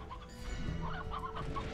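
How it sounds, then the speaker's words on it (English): Chickens in the video game Slime Rancher cluck in a few quick, soft bursts over a steady low hum of game background sound. "And more chickens."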